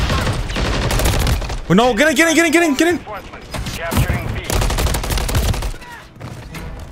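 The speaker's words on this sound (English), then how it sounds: "Big gunfight. Big gunfights." Bursts of rapid gunfire in a Modern Warfare III ranked match, loud close volleys crackling back and forth while a player shouts over the shooting.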